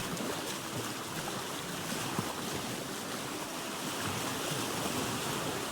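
In the survival game Vintage Story, a boat races very fast across open water, producing a steady, moderately quiet wash of rushing water and wind that carries on without a break.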